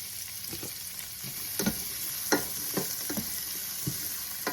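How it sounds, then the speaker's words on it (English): Fresh onions sauté in a casserole dish, frying with a constant sizzle while a utensil stirs and scrapes through them in irregular bursts. "Okay, we're gonna saute this for a minute."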